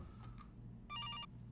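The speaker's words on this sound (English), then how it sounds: "Oh, the phone's ringing." A telephone rings, one clear electronic burst of ringing after a couple of softer tones, close and fairly loud with no one talking.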